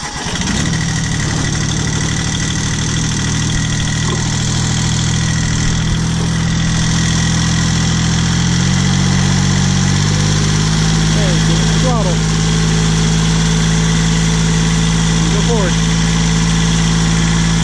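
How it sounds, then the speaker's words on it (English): A small 782 diesel pulling tractor idles steadily and loudly up close, a low continuous rumble with a faint revving shift midway, while people talk over it. "Who doesn't love a diesel tractor?"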